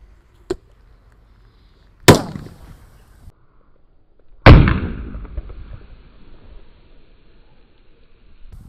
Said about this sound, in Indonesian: terima kasih sudah mengikuti eksperimen menyalakan mercon di dalam toples